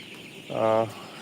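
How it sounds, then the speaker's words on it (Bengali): A young coloured broiler chick, about twelve days old, gives a single short peeping cluck on a poultry farm, close and clear over a quiet background. "দেখেন আমার মুরগির বাচ্চাগুলো"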